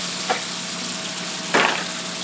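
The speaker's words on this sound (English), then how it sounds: "Saute them right along with the onions." Pierogies sautéing with onions in butter sizzle softly and steadily in a pan, with two short louder bursts of scraping and stirring, close and free of speech.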